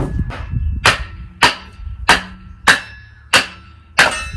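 Kindling wood is split on an affordable outdoor log and kindling splitter, giving seven sharp, loud cracks of wood striking metal at a regular pace about every two-thirds of a second, close up and with no talking.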